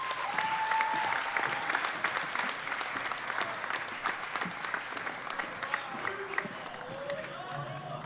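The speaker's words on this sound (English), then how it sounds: "Please give Leonor Fernandes and Diana Neves a round of applause" An audience applauds the makers of an environmental activism documentary. The clapping is fairly faint and steady, with a few scattered tones and whistles mixed in over several seconds.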